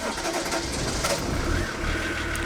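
BMW 525 TDS diesel engine turning over and catching, a rough clattering run rising and settling through a couple of surges, close and fairly loud with no talking.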